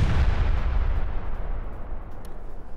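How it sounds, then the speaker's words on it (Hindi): Cluster munition fired from an anti-tank gun in a combat zone in Ukraine, heard as a loud, heavy blast with a rumbling low roar that slowly fades over a few seconds. "यह देखिए एंटी टैंक गन से क्लस्टर म्यूनिशन लॉन्च किया गया।"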